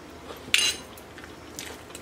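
A metal spoon scoops corned beef sandwich spread from a dish, giving one sharp clink followed by faint scraping taps, quiet and close.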